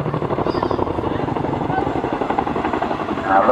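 An RAF Chinook helicopter flies a roller-coaster manoeuvre, giving a loud, steady rhythmic rotor chop with a continuous engine drone, heard nearby in the open.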